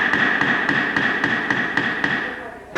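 A hammer stretches a coin-silver piece on an anvil in a rapid, even series of close, light metallic taps over a steady ringing background.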